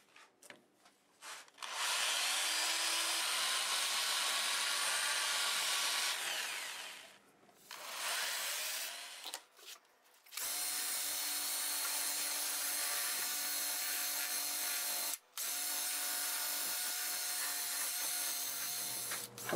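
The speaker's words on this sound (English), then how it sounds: "I've got it all sanded up, and it really was hard to sand" A turned cherry wood bowl is sanded on the lathe, giving a loud, steady hissing rasp in long stretches broken by a few short pauses, close by with no talking.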